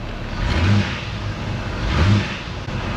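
A car engine with misfires, worst on cylinders 4 and 5, revs up twice in gear under load in short bursts, rumbling low and rough, then settles back between the pushes.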